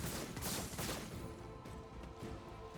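Gunshots in the Warhammer 40K Rogue Trader video game come as a dense, loud crackling volley with several quick impacts, fading into a noisy rumble.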